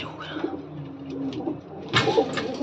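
Pigeons in a coop coo softly in a few low, drawn-out calls, fairly close, with a sharper burst of fluttering or shuffling near the end and faint background noise.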